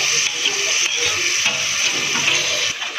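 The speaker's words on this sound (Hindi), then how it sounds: "अब हम इसमें ग्राइंड की हुई" Ground spinach is stirred into hot masala in a pan for palak aloo, giving a loud, continuous close sizzle and hiss with soft stirring scrapes.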